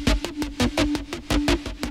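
Pluck-style drum and bass synth bass built in Serum, a steady eighth-note run of short, punchy filtered plucks with a sustained tone underneath, loud and alone.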